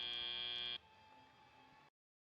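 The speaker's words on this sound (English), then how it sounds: "our final buzzer sounds in match 69" A loud electronic buzzer marks the end of a robotics competition match, a steady tonal blare lasting under a second, followed by a quieter sustained hum before cutting to silence.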